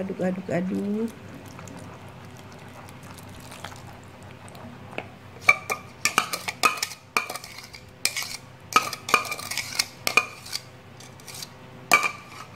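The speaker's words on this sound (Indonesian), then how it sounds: "Kita campur biar tidak terlalu menggumpal, jadi kita campurnya mulai dari tengah. Kita aduk." A utensil scrapes and clinks against a bowl while donut batter is mixed, in irregular rhythmic strokes that grow busier partway through, with a voice talking at the start.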